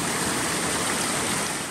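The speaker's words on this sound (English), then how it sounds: "look at this little waterfall" A small jungle waterfall in Costa Rica pours in a loud, unbroken rushing roar, close by and steady from start to finish.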